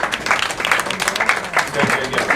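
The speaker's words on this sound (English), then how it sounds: "Everybody give them a big round of applause" Audience applause for people being honored with medals, a steady wash of clapping from a crowd at moderate loudness, lasting a couple of seconds with slight swells.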